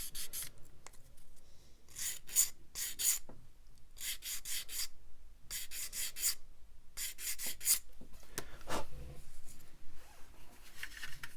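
A file or sanding stick rasps plastic from the flange joint of a 1/32 scale Kotare Supermarine Spitfire Mk1a model kit wing, in bursts of quick close back-and-forth strokes separated by short pauses.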